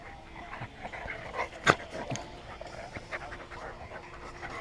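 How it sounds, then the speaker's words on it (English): Dogs at play outdoors in summer, with steady panting, small whimpers and a sharp yelp partway through, close by and moderately loud, amid light background noise. "Dog's playing."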